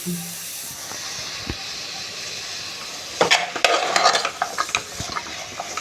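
Ingredients with coriander, coconut and kasuri methi stirred and tossed in a hot pan for a gravy, with scraping and clattering over a soft sizzle, growing busier in the second half.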